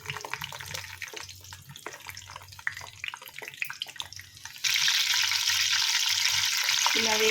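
Thick eggplant pieces fry in a little oil, crackling and sizzling close up, then turn into a louder, steady, dense sizzle about halfway through.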